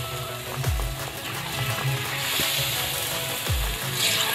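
Potato pakoras fry in hot oil with a steady crackling sizzle, broken by a few clanks and scrapes of a utensil against the pan.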